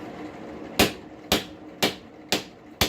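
Five heavy hammer blows ring out at an even, unhurried pace as a hot farrier's rasp is forged over the step of an anvil, each strike sharp and loud with a short metallic decay.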